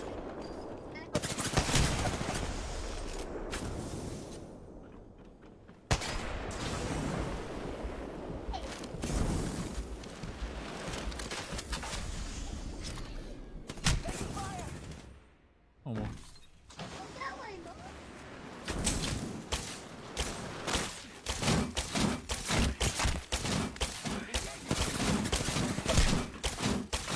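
Video game gunfire crackles in rapid bursts and sharp single shots, loud and close, with a player talking over the shooting.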